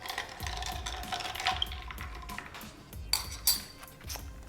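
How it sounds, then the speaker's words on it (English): A spoon stirs a glass of ginger ale with Angostura bitters, giving a series of light, close metallic clinks and taps against the glass, with soft scraping between strikes and a brighter ring near the end. "Give it a little stir and enjoy."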